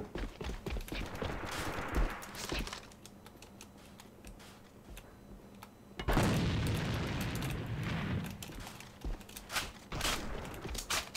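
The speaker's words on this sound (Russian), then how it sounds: "Бросаю гранату." A grenade blast bursts loud and close midway through a video game firefight, its booming roar following scattered gunshots and rapid fire that keep popping before and after.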